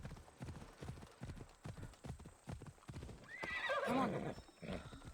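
Horse hooves clip-clop in a steady walking rhythm in a video game, followed by a loud neighing whinny near the end, with no speech over it.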